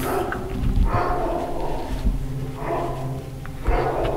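Dogs bark and yelp around an abandoned factory, repeated rough bursts coming in uneven waves over steady loud background noise, fairly close and insistent.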